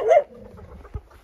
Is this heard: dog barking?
yes